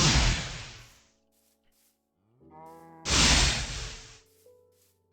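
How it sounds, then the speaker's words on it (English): A Minecraft cow in Tekkit Classic moos twice, each low drawn-out call about a second long, separated by short game sound effects and a pause, heard alone without talk. "Hello, cow."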